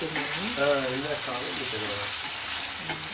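Mutton liver cooking in a pan, a steady close sizzle and frying hiss running throughout while someone talks over it.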